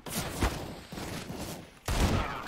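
Gunfire in CS:GO from a scout rifle and a Deagle: a few loud, close shots with echoing tails, spaced unevenly across a short burst.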